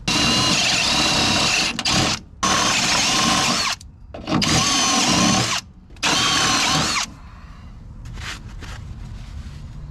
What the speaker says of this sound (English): I should double check the rest of my holes before I drill them